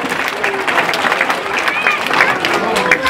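Crowd applause at a jaripeo during a town patron saint festival in Puebla, dense steady clapping with scattered cheers, loud and close, continuing throughout.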